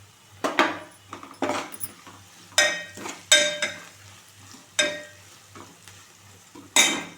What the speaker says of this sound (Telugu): బీరకాయ పప్పు ఇట్లా ఆయిల్లోనే ఫ్రై చేయడం వల్ల చేదు అనేది రాదు